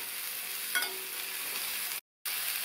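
Pumpkin pieces sizzle and fry in hot oil while being stirred, a steady close crackle with one brief scrape of the spoon and a short cut-out near the end.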